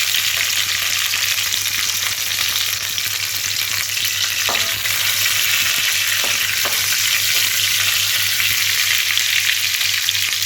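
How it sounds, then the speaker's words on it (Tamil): Green chillies sauté in hot oil with spluttering mustard seeds while village-style dried fish curry is cooked, a loud steady sizzle and crackle with a few sharp pops and stirring clinks, alone and close. "கடுகு நல்லா பொரிஞ்சோடனே இதை உள்ளே ஆட் பண்ணி லைட்டாக வணக்கி விட்டுக்கலாம்"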